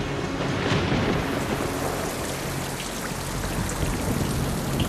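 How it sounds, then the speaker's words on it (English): Steady, dense rainfall hisses continuously, with a low rumble of thunder beneath it. "it rains methane"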